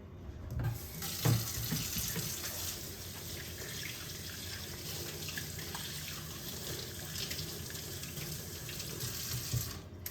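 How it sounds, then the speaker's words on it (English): Hands washed under a running kitchen tap, a steady stream of water hissing into the sink with brief splashes and knocks as the hands move, close and continuous with no talking. "Give me a second to wash my hands."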